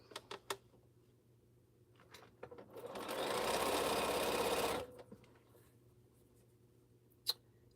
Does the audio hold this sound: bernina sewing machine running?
yes